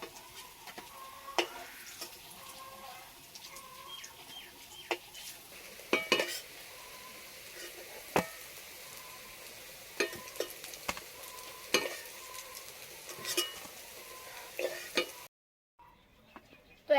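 Bora fritters for a pointed gourd (potol) dish frying in hot oil, a soft continuous sizzle with frequent utensil clinks and stirring knocks against the pan, ending in a brief silence.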